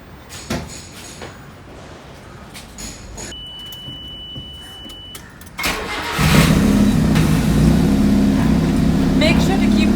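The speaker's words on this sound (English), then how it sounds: "Now that we have checked everything here, we can start the engine." A car engine, checked during home DIY maintenance, cranks and catches about halfway through, then settles into a loud, steady running hum close by.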